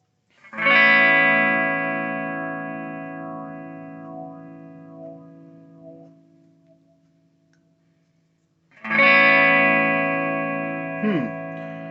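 Electric guitar played through an oddball effects pedal, two loud strummed chords each ringing out and fading, the sustain starting to wah as it gets quieter, with a brief squelch near the end.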